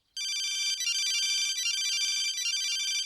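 Telephone rings with a bright, warbling electronic trill that starts abruptly and continues steadily, clear and close, with no talking.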